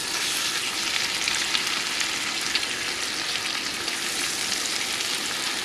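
Fluke fillet frying in melted butter in a pan, producing a loud, continuous close-up sizzle with no talking.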